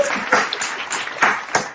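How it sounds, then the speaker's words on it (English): A studio audience applauds comedy contestants on a game show, with scattered individual claps in an uneven rhythm, fairly close and moderately loud, a few sharper hand strikes standing out. "Let's give them all of a round of applause."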